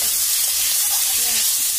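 Boiled turnip and potato with salt and turmeric sizzle and fry steadily in a pan, a continuous close hiss with faint stirring throughout.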